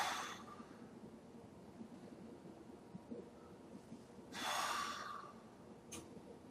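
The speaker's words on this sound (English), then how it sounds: "Then take 2 breaths," Two slow, relaxing breaths during a seated foam-ball balance exercise, a soft one at the start and a longer, fuller exhale a few seconds later, close against a quiet room.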